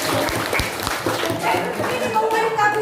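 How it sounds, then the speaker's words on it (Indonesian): A classroom group gets applause, a blur of clapping hands mixed with voices and chatter filling the room. "berikan tepuk tangan untuk kelompok"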